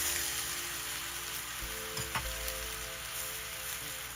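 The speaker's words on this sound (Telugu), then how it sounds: "ఆయిల్ హీట్ అయ్యాక తరిగి పెట్టుకున్న ఆనియన్స్, టొమాటోస్ కూడా వేయాలి." Chopped onions and tomatoes fry in hot oil for paneer butter masala, a continuous even sizzle close at hand with a couple of brief stirring knocks midway, no voices.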